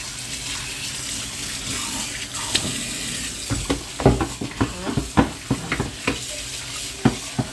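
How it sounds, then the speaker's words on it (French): Hands washed under a running tap: continuous splashing water from a faucet into a sink, with irregular louder splashes and clatter as the hands move through the stream, close by. "Lave mes mains."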